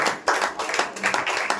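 Loud rhythmic hand clapping from a group at a prayer meeting in a home, steady bursts filling the short stretch with faint voices mixed in.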